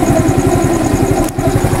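A Skygo motorcycle engine idles close by with a steady, loud, rhythmic low putter and a slight mechanical clatter, the bike suffering a fault that makes it die and lose all its lights.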